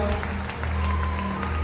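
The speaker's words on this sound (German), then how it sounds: "Und holt dir deinen richtig verdienten Applaus" Applause from an audience, a steady wash of many hands clapping at moderate volume throughout, with a low hum underneath.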